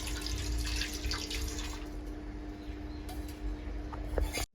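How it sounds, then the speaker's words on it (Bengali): Jute greens are rinsed several times in water in a home kitchen, a steady splashing and running-water wash with faint drips, close and continuous, ending abruptly. "এইভাবে আমি এবার 3-4 ধোয়া দিয়ে নেব।"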